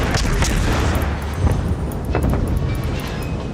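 Naval gunfire and shell explosions in the World of Warships game against a large enemy ship: a steady, dense rumble broken by heavy booms at a loud, even level.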